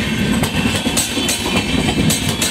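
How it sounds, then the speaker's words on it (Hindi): The Gomti Express, hauling blue coaches, rolls into Aligarh Junction with a steady rhythmic clickety-clack of wheels over rail joints and a rumbling carriage noise close by, with no voices. "नीली रंग की कोचों के साथ गोमती एक्सप्रेस अलीगढ़ जंक्शन पर पहुंचते हुए।"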